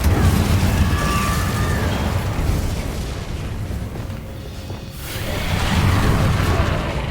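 Incendio fire spell cast in Hogwarts Legacy, a loud sustained whooshing blast of noisy fiery roar with booming low rumble that dips briefly and then swells again.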